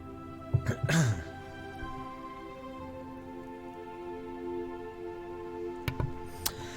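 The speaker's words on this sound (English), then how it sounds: "Immediately made me cough." A single cough near the start, then a quieter second one a few seconds later, against a steady background hum.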